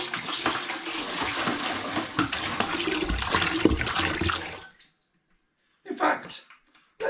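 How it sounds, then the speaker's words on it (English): Five litres of water pours into a big brewing pan for a citrus lager, a loud continuous gushing that stops abruptly, followed by short splashes and sloshing. "into my big pan goes another 5 litres of water"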